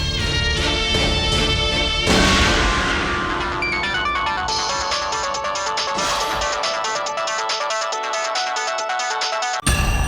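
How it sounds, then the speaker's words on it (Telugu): A mobile phone rings with a loud, melodic ringtone that plays on for about ten seconds, its tune shifting partway through, with no talking over it. "అమ్మా, రింగ్ అవుతుంది, మాట్లాడు"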